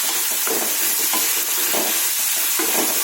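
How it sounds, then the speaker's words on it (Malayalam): Tomato being stirred into vegetable thoran as it fries in a pan, with steady sizzling and several scraping stir strokes recurring roughly every half second, close and alone without talk. "തക്കാളി ഇട്ടിട്ട് ഒന്ന് മിക്സ് ചെയ്യാം."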